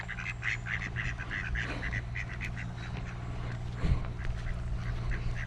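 A flock of ducks and geese calling continuously, quacks and honks overlapping at a moderate distance over a low background hum.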